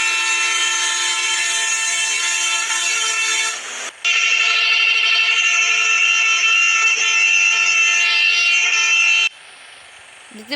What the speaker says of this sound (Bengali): দেখতে পাচ্ছেন হর্নগুলো কিন্তু অনেক বেশি মারাত্মক লেভেলের